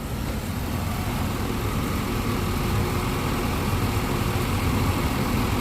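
A 1990 Cadillac Brougham with a 5.7L throttle-body-injected engine idling in drive, a steady low rumbling hum that holds constant throughout with no talking.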